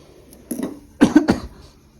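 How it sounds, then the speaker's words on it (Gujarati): A few short, sharp coughs close to the mic, clustered in quick succession, with a quieter throat sound just before them. "આમાં ઉધરસ થાય એવું લાગે"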